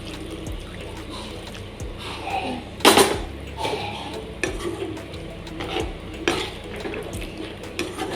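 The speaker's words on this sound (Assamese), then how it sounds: "অলপমান পানী দিয়াৰ পাছতে মই এনেদৰে লৰাই সকলোবিলাক মিক্স কৰি দিছোঁ।" Pork curry cooked without oil is stirred in a pot just after a little hot water goes in. Close metal clinks and scrapes of the spoon, with one loud clatter, sound over a soft wet sizzle.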